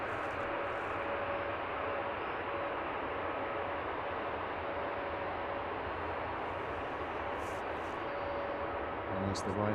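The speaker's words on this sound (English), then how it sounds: "Never one known for a slow taxi, is it, Ryanair?" Ryanair airliner taxiing quickly at London Luton Airport, a steady broadband engine roar that holds close and even for about ten seconds, with a faint tonal whine running through it.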